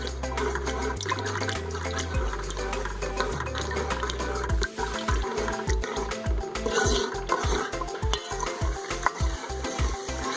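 Yogurt goes into a frying masala for an aloo baingan curry and is stirred in, the sizzle running under a quick, regular series of close scraping strokes in the second half.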